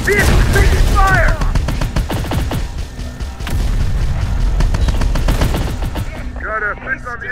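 Rapid bursts of automatic gunfire and booming impacts fill a Terminator Dark Fate Defiance battle scene, loud and continuous, with brief radio-style voices speaking at the start and end.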